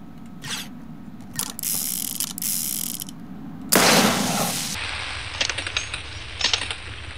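Gun reload mechanisms in the Borderlands video game, a rapid series of mechanical clicks, ratcheting clacks and metallic slides, one burst loud and bright, all close and without talk.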